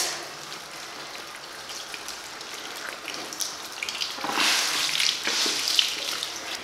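Running water rinses soap out of a washable plush toy, a steady hiss of flowing water that grows louder and splashier partway through, close by with no talking.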